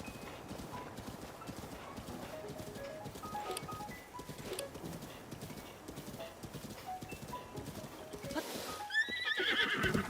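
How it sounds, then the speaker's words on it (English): A horse in a video game clip-clops along with steady hoofbeats throughout, then gives a loud whinny near the end, with no speech over it. "Horse."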